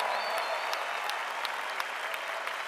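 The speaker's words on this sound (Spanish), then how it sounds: "deberías darle el mejor aplauso." A church congregation applauds steadily, a dense even clapping from a crowd that holds at a moderate level without pause and with no talk over it.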